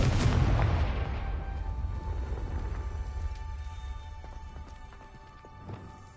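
A Confringo spell explosion in the video game Hogwarts Legacy: one loud, booming blast at the start that rolls off into a long, fading rumble with scattered small crackles.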